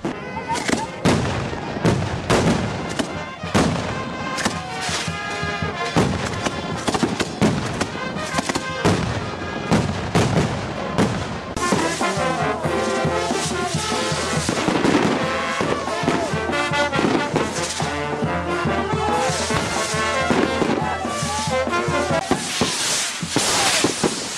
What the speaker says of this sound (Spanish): de ambas partes para lanzar los cohetes al aire